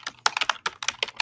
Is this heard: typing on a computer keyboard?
yes